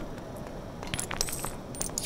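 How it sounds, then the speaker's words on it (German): A single coin drops and clinks several times in LEGO Harry Potter Years 1-4, with bright metallic pings over a steady game background. "Und eine Münze ist runtergefallen"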